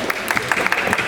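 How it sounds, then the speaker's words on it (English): An audience at a comic convention panel applauds, a busy patter of many hands clapping with scattered sharper claps standing out, a brief burst mixed with faint crowd noise. "Chris, Barrie, can we have a round of applause, please?"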